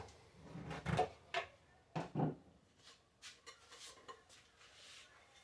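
An old GE mixer bowl being handled in a home kitchen, with a few close clanks and knocks of dishware early on, then fainter, scattered taps and rattles.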